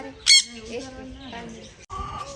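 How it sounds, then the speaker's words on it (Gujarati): A sharp, loud bird squawk bursts out near the start, followed by softer chattering and background voices talking. "પોપટ"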